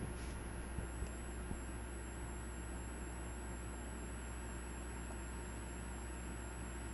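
An air conditioner running indoors gives a steady, even background hum and hiss with a faint high whine, unchanging throughout with no speech.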